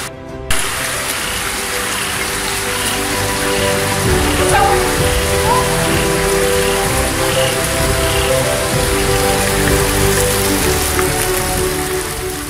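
Heavy rain pours steadily onto a flooding street in Phan Thiet at night, with a dense, continuous hiss and patter of water on the surface and faint background noises, with no talking.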